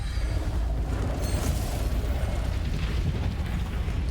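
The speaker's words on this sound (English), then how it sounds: "Breach fire causes high damage at close range." Breach fire, a close-range fire spell in Immortals of Aveum, roars as a steady, dense blast of crackling, rumbling noise that holds at constant loudness throughout.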